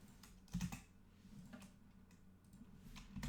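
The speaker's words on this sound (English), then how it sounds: "Let's type that here." Keys clatter on a computer keyboard in a quiet room, a faint, uneven series of close taps and clicks with a couple of louder strikes.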